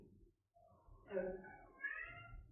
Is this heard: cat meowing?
yes